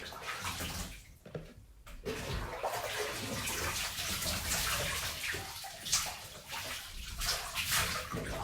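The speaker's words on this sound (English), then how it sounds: "I'm rinsing down now" Water runs and splashes into a bathtub during a rinse, a continuous close rushing stream with brief gurgles and sloshes, steady and moderately loud with no voices.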